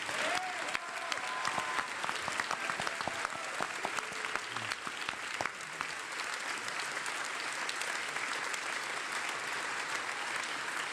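An audience at PAX 2022 applauds panelists in a sustained, dense round of clapping that continues steadily throughout at a moderate level.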